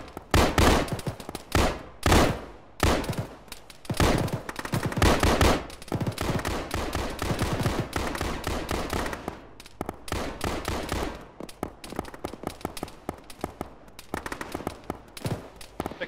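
Heavy automatic gunfire in a ShackTac military shooter game: loud rattling bursts of machine-gun fire, near and sustained, broken by brief pauses and scattered single shots, with no talking.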